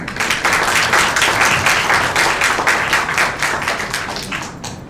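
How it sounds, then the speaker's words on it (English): Warm audience applause for a speaker at a business technology talk, dense steady clapping from a room full of people that tapers slightly toward the end. "Please join me in giving her a warm round of applause."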